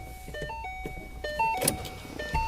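Electric convertible top of a Ford Mustang lowering, a close whirring motor hum that shifts in pitch through its travel, with a few mechanical clicks and a clunk near the end, no voices.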